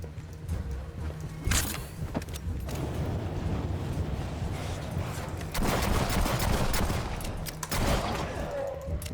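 Gunfire rattles through a video game match against bots, with bursts of shots and sharp impacts scattered over a constant rumbling backdrop, loud and close throughout.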